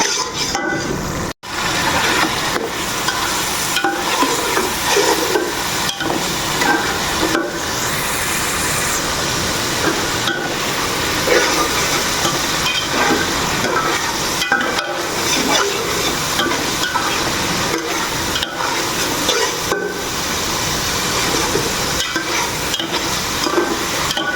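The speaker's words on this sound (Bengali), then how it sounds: "তো আমার মশলা কষানো হয়ে গেছে" Spices with onion, turmeric powder and salt sauté in oil in a pan, a loud continuous sizzle and hiss with constant stirring scrapes throughout, close and unbroken.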